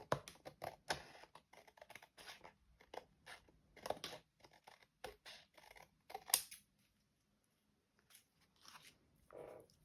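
Scissors snipping through scrapbooking paper scraps in quick, crisp repeated cuts, close to the microphone, then a pause and a couple of faint final snips.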